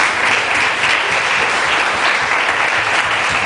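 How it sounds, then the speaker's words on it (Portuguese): A church congregation at a Friday evangelical service claps for Jesus Christ, loud continuous applause filling the hall without pause. "Então aplauda o Senhor Jesus Cristo."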